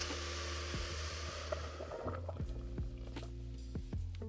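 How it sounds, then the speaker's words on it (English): Boiling water poured carefully over toasted rice in a pot, a soft low gurgling pour with bubbling and sputtering that runs steadily throughout, faint and close, with no talk. "You're gonna add the boiling water"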